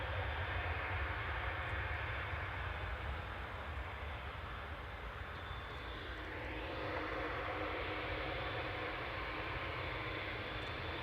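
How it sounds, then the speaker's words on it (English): Heard from a distance, an Airbus A320-200 airliner takes off from Manchester Airport with a faint, steady engine roar that holds for around ten seconds. "off to Lisbon there. OEIDX flight 7696 Airbus A320 200"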